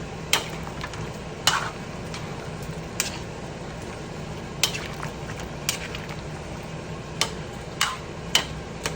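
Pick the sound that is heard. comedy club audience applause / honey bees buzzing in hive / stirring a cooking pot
stirring a cooking pot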